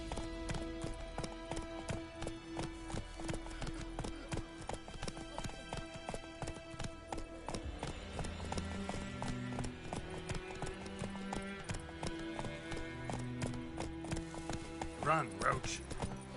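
Roach the horse galloping in The Witcher 3, with rapid, steady clip-clop hoofbeats throughout, a shift in rhythm partway through, and game music and ambience underneath.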